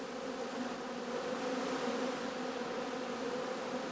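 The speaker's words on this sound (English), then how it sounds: "On sunny and warm October days, bees can still be seen flying" Honey bees flying around hives on a sunny, warm October day, a dense steady buzzing drone that fills the whole stretch without pause and with no voices.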